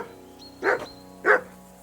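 A dog named Mutt in Kingdom Come Deliverance II gives two sharp, loud barks about half a second apart, close by over a quiet steady background hum.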